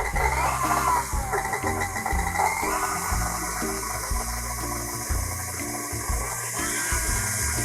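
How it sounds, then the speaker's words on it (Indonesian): An electric hand mixer whips chocolate whipped cream for a chocolate caramel tart at low speed, a steady close whirring hum with rhythmic beating in the bowl, with no talking. "sekarang kita akan kocok dengan kecepatan rendah dulu"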